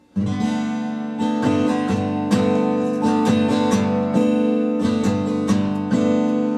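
Ringing acoustic guitar chords in DADGAD tuning are strummed repeatedly with a droning open resonance, bright and close, several strokes over a few seconds.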